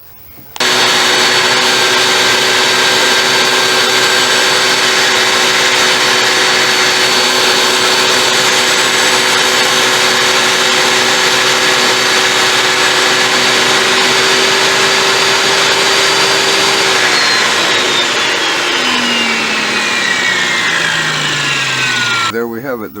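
A power saw freehand-cuts a lap joint along vertical shiplap siding, a loud, steady whine running without a break for about twenty seconds before winding down near the end.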